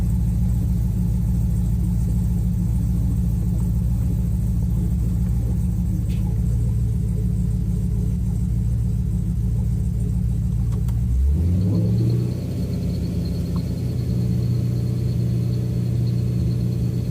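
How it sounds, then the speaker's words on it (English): Camaro engine with FiTech fuel injection running at a high, steady idle, a loud constant rumble that drops in pitch and settles lower partway through, with no voices. "I don't know why the idle speed's so high"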